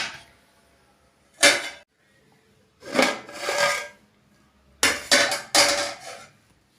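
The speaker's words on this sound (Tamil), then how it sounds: "இப்போ மூடி போட்டுடலாம்." A metal lid is set onto a pot of mutton biryani made with seeraga samba rice for dum cooking, giving several loud, close clanks and scrapes in separate bursts with quiet gaps between.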